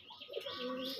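Red native pigeons on a farm give a brief low coo mixed with faint chirps, soft and close, lasting about a second.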